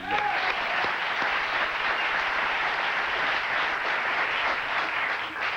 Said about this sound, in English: John Belushi, big round of applause.